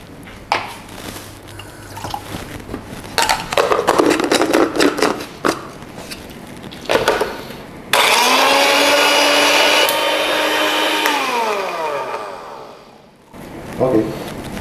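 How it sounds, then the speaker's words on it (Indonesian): Blender whirring through garlic and turmeric with a little water: a loud, steady motor roar that starts abruptly, holds for several seconds, then winds down, with kitchen clatter and scraping before it. "Ini tadi ini bawang putih sama kunyit udah kita blender ya."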